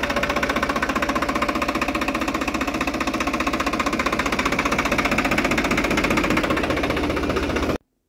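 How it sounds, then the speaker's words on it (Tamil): A 2023 Swaraj 744 FE tractor engine runs at a steady idle, a loud close rhythmic diesel knocking throb that continues evenly before stopping abruptly. "இப்போது இன்ஜின் சவுண்டை கேட்போம்."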